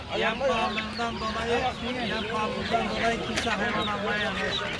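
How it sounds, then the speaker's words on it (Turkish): Young turkeys crowd a busy poultry market in Adana, giving dense, continuous high chirps and peeps along with clucking fowl. Someone talks throughout in the foreground. "Yine burada hayvanlar var. Hint yarkalar var."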